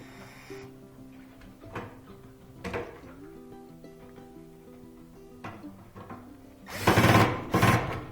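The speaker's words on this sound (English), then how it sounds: "Now we'll add those 2 screws back. Tighten up those screws." Screws being tightened on a gas dryer: a few close, brief mechanical clicks and whirs, ending in two louder bursts of buzzing from the tool.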